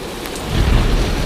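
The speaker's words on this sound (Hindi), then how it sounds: "हे भगवान, यह तो बहुत जोर की बारिश आ गई।" Heavy rain pours down during a thunderstorm in a Hindi cartoon story, and a deep roll of thunder swells beneath the loud, dense rain.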